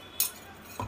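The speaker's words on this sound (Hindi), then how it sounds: "अब सबसे पहले रोस्टेड मसाला को इसमें मिक्स कर लें" A spoon mixing roasted masala in a bowl gives two sharp metallic clinks against the side, one early and one near the end, with quiet in between.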